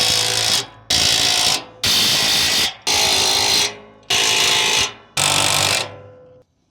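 A power tool tightens trailer suspension bolts and shackle links in five loud, close bursts, each lasting about a second with short gaps between them, the last trailing off as it slows.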